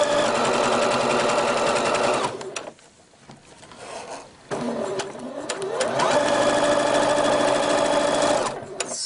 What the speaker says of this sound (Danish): så skal vi så lave en stikning her med almindelig ligeudsyning